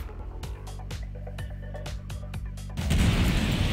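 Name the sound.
size 4 missile fired at Eclipse ship in video game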